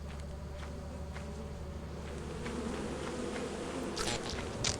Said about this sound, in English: Oh, this moon does have bees.